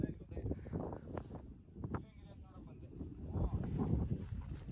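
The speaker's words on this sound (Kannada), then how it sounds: "ಒಳ್ಳೆ ಗಾಳಿ ಬೀಸ್ತಾ ಇದೆಪ್ಪ" Strong wind sweeps across the hilltop at Gavi Betta near Sakleshpura, buffeting the microphone with a continuous rough rumble that swells and eases in gusts, with faint voices underneath.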